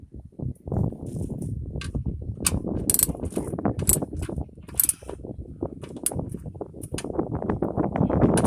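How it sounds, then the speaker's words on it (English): Ratchet wrench clicking during an oil change on a 2011 Toyota Tacoma, bursts of rapid mechanical clicks and turning over a steady workshop background, close and fairly loud with no talk. "always best to remember to change the direction of the ratchet."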